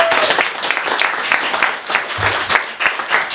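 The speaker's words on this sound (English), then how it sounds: "Round of applause for Eric." A room of guests gives a warm round of applause at a live radio broadcast from a new studio on Hamilton Road in Felixstowe, the steady clapping filling the space at close range.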